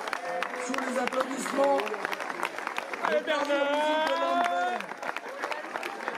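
Crowd applause at the Journée Genevoise of the FEVI 2019 festival, steady clapping running under a voice addressing the audience through a loudspeaker.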